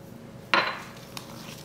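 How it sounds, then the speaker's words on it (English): A small whisk stirs dried dill and chives into a creamy dip with one clear metallic clink against the bowl, then a quiet scrape and a faint tap, close and alone. "I'm just gonna stir in a little bit of dried dill and a few little chives."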